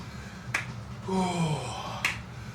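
Two crisp, close hand claps about a second and a half apart during a qigong exercise, with a soft, wavering voiced sound and a breathy background between them.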